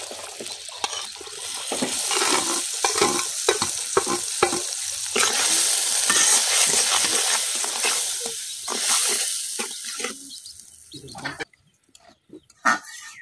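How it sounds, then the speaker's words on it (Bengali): Spices such as turmeric, chili, salt and coriander powder cook with fermented fish in a pan, giving a continuous loud sizzle with stirring scrapes and crackles that fades near the end to a few faint clicks. "এখন মশলাটা হিদলের সাথে কিছুক্ষণ কষাই লইয়াম।"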